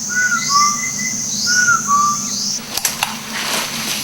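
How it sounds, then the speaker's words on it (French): A distant whistle sounds in a Laos jungle, two rising and falling whistled calls in succession, with a few sharp knocks and rustling after. "À leurs appels, dans le lointain, un sifflet répond."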